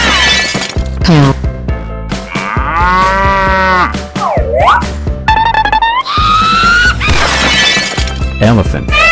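Cartoon cow moos in a 3D animal slide video game, one of several loud animal calls and playful game sounds packed close together over busy music, with a voice chiming in.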